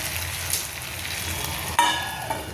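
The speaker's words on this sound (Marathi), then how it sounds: "आता आपण झाकण ठेवायचं आहे आणि मंद विस्तवावरती हे शिजवून घ्यायचं आहे।" Potato slice curry cooks in a covered pan on a low flame, giving a soft, steady sizzle with a faint clink partway through.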